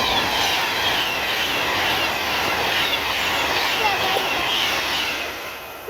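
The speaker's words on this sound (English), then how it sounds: "there's just some trains so I had to quickly record them" A train passes through Lockerbie station, a loud continuous close rumble and rush of wheels on rail that eases off slightly at the end.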